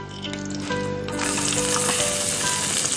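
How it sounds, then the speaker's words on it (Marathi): Onion sautés in a little oil in a pan, a steady loud sizzle and hiss that swells as the pieces are stirred, close up with no voices. "आता याच्यामध्ये आपण घालूया थोडंसं तेल आणि याच्यामध्ये कांदा सॉटे करून घेऊ."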